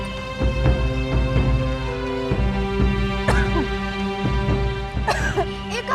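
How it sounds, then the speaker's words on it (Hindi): Several short coughing bursts come at irregular intervals, close by, over a steady tonal hum, with a few throat-clearing sounds mixed in. "इतनी खांसी?"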